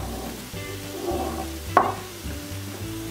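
Roti rolls dipped in a coated mixture fry in hot oil with a steady low sizzle, a single sharp clatter of utensil against pan midway, no voices.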